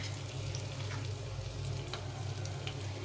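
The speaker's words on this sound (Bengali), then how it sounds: "এটাকে ভালো করে ভেজে নিতে হবে।" Raisins and cashews frying in a pan, producing a faint, steady sizzle with light crackles and a low background hum throughout.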